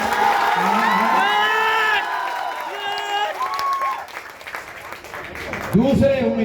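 A crowd at a political rally in Gaya claps and cheers after the first candidate's name is announced, with shouts and whoops rising over a talking voice that carries through, the noise swelling loudly again near the end.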